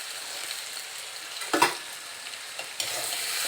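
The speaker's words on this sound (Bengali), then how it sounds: "ভালো করে নেড়ে নিতে হবে কষিয়ে নিতে হবে ভালো করে" Ginger-garlic paste and cumin-chili paste sizzle in a pan while being stirred, a steady close frying hiss broken by a couple of sharper scrapes of the spoon.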